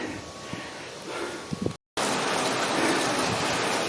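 Steady outdoor rain hisses across the whole band during an event sound-system setup with a tent, faint and patchy at first, then a short dropout before a dense, louder wash of rainfall.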